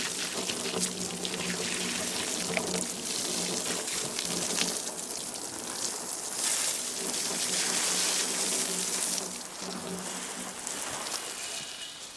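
Water pours steadily from a hose with a continuous splashing rush, loud and close, shifting a little in intensity.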